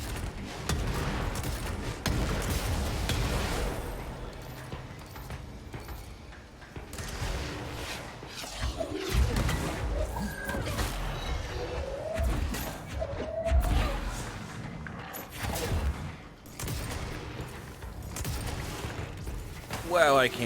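Gunfire from shooting in the video game Control comes in scattered, irregular bursts of thuds and cracks over a busy game soundscape, with someone talking through much of it.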